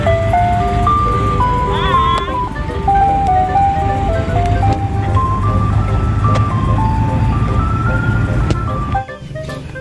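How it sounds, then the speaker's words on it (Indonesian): A toy ice cream truck plays a bright, beeping electronic jingle, a continuous stepping melody that loops loudly and close throughout, cutting off near the end, with a low motor-like hum underneath. "Yang ini ada mobil es krim."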